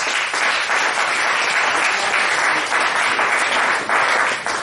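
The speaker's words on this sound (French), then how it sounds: "On acclame le Seigneur." A church congregation applauds steadily to acclaim the Lord, a dense, continuous wash of clapping from many hands that holds loud and even throughout, with no talk over it.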